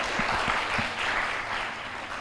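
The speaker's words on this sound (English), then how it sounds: "Please a round of applause for Prof." Conference audience applauding after an academic presentation, a dense patter of many hands clapping with a few sharper nearby claps early on, moderately loud and continuous without speech.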